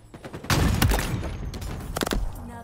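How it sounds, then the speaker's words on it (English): Three-round bursts of gunfire in Halo Infinite, a dense loud volley of shots followed by another clustered burst of rapid cracks amid battle noise. "Nothing satisfies like a three-round burst."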